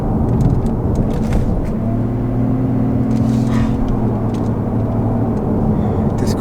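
2022 Lexus IS350 F Sport AWD driving on the road, with a steady, smooth low engine and road hum running throughout, close and even in level, and no talk over it.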